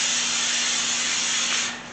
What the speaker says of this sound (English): Let me spray it.